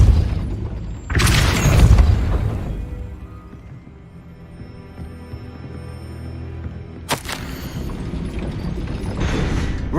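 In the Hogwarts Legacy video game, a heavy gate mechanism rumbles and grinds, opening with a loud booming churn, then a long low mechanical drone, and ending in another loud burst of clanking rumble.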